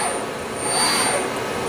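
Spindle of a Chevalier Smart B818II CNC surface grinder running after a cycle start, a steady close whine and whoosh that swells slightly midway, with no talk over it.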